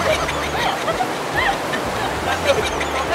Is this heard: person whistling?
no